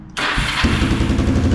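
A quad bike engine starts after a short pause, cranking into life and settling into a loud, close, rough idle.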